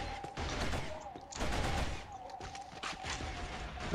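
A gun picked up in Killzone fires in bursts of rapid shots, loud and close, with short pauses between volleys over noisy battle ambience.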